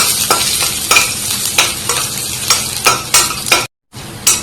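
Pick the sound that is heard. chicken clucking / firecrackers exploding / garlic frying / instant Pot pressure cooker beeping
garlic frying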